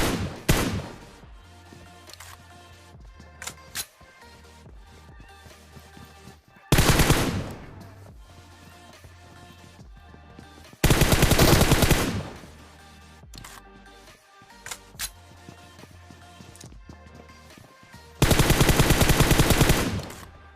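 Gunfire from an AWM-style battle game rings out in several loud bursts of rapid automatic fire, spaced between quieter stretches with faint game sounds.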